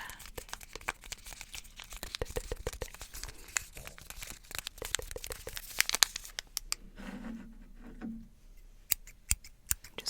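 Scissors snip close up in a quiet ASMR setting, a run of sharp crisp cuts followed by paper-like crinkling and a few scattered clicks, with no speech.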